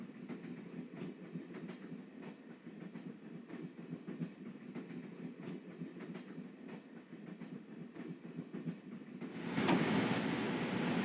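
A train rolls along in Broken Sword: The Shadow of the Templars, a steady low rumble with rhythmic clatter, and near the end the sound turns brighter and louder, as if heard from outside the carriage.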